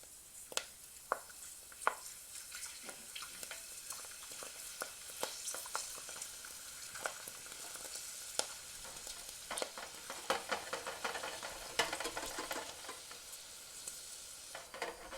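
Rotini pasta sizzles and bubbles steadily while deep frying in hot oil, with scattered sharp crackles and pops over a constant close hiss and no talking.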